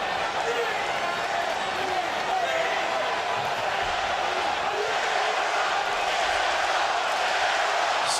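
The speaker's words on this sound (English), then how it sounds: "Southern California crowd cheering on San Diego, California's Brandon Vera" Southern California crowd cheering at an MMA fight between Shogun and Brandon Vera, a steady dense roar of many voices filling the arena throughout, with no breaks.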